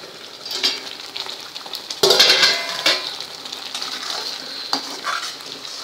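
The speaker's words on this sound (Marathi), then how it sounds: "हळू हलवायचा आहे कांदा नाहीतर अंगावर उडेल याची काळजी घ्यायची आहे" Onions frying for pav bhaji in a pan, crackling steadily while a spoon scrapes and stirs them in short bursts, close and clear with no talk.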